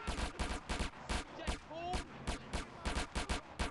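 Rapid gunfire in a GTA video game shootout, loud bursts of repeated shots in quick irregular volleys, with a brief whooshing tone partway through.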